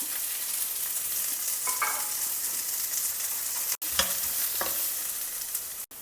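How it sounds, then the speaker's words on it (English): Chopped onion fries in oil with salt, a steady soft sizzle throughout, with a few brief scrapes of stirring and two sharp clicks, no voices. "Fry till the onions get a glassy appearance."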